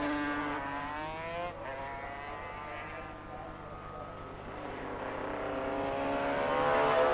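Racing motorcycle engines from a 1985 500cc championship round, including a Honda V-twin 250cc, whine and rise in pitch as they accelerate past, continuous and fairly loud under crowd-like background noise.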